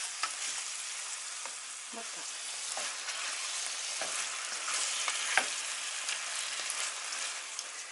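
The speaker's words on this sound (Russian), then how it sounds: "и не на большом огне обжариваем" Chicken fillet frying in a pan over moderate heat produces a continuous soft sizzle with scattered pops and crackles, close by, and a voice says a couple of words briefly.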